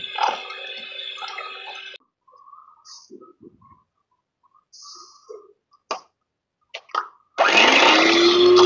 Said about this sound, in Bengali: ঘুরিয়ে ঘুরিয়ে বিটারটা আপনারা ডিমের মেরাংটা ভালোভাবে তৈরি করে নেবেন।